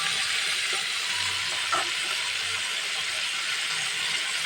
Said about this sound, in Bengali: এখন আমি আদা রসুনের পেস্টটা দিয়ে দিচ্ছি।